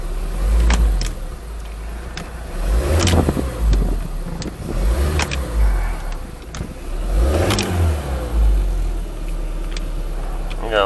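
A Mercury Alpha One Gen 1 sterndrive engine, freshly remounted with new drive shaft seals and no prop fitted, is test fired and revved repeatedly, several loud rising and falling bursts over a rough idle, close by.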